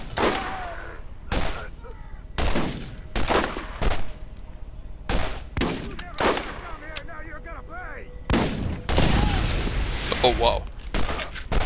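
Repeated pistol shots from the game Borderlands ring out as sharp, loud bursts spaced a second or so apart, with a brief spoken exclamation and game sound effects between them.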